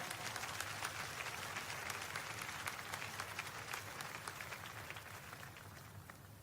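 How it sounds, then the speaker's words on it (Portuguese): A church congregation claps for the Lord during a sermon by preacher Jimmy Swaggart, a steady wash of dense applause holding at an even level throughout, with a low hum underneath. "pode glorificar ao Senhor com palmas"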